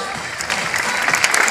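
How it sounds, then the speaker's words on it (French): A crowd applauds recortadores at a bull event in Beaucaire, a steady wash of clapping that swells partway through and stays moderately loud and distant-sounding. "on peut les applaudir"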